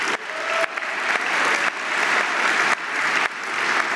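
Audience applause at a live comedy show, a continuous broad wash of clapping that dips and swells in short waves over four seconds with no talk.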